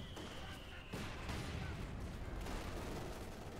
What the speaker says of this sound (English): taking heavy mortar fire from Inevitable's Granatenwerfers